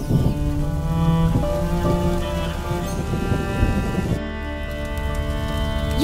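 Steady rain falls in the video game A Plague Tale: Innocence, a loud, continuous wash of downpour that fills the scene throughout with no break.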